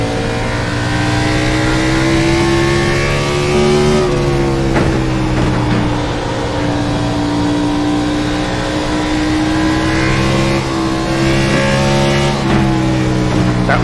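Race car engine in the iRacing video game on the Bristol Speedway "Bull Ring" oval, a loud sustained drone that holds steady with brief pitch dips around a few lap points, with no talk.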